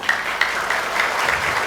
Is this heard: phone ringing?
no